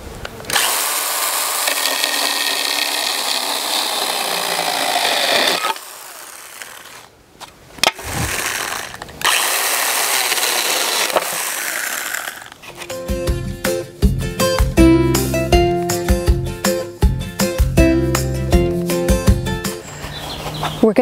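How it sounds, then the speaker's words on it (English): A cordless power tool cuts through wooden pallet planks in two loud, sustained bursts with a short pause between, followed by rhythmic, clattering tool noise toward the end. "So I'm gonna get my GTA 26 again and cut these off."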